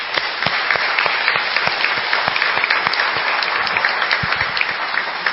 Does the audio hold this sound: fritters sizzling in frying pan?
no